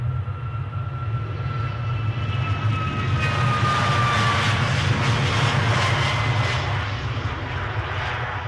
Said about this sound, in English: Next up, we have a EasyJet